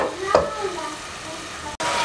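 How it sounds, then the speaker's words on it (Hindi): Chicken fries in a pot over browned garlic paste with a continuous soft sizzle, broken by one stirring scrape near the start and a brief cut in the sound near the end. "इसको ब्राउन करके इसमें चिकन फ्राई करूँगी"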